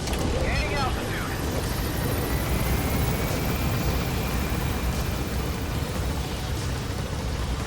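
Helicopter in Metal Gear Solid V: The Phantom Pain climbing in altitude, a steady loud rotor and engine wash filling the whole clip with a continuous broadband roar.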